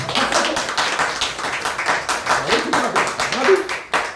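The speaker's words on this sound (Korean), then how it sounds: "자, 여러분들 박수 소리를 한번 쳐주면 어떻게 하트가 바뀌나. 자, 박수! 박수! 자, 박수!" Lecture hall audience clapping on cue, a dense wash of many hands mixed with voices and chatter throughout, loud and close.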